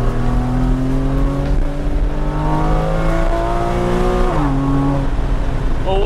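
A Porsche Cayman 981 engine revs hard and climbs steadily in pitch to about 7,000 rpm, then drops briefly on a quick gear change and pulls again, loud and close from inside the car.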